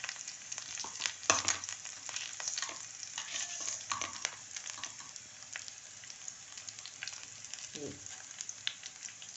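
Fenugreek seeds, chili and garlic frying in hot oil with onions for an aloo palak tempering, a steady close sizzle with occasional stirring clatter throughout.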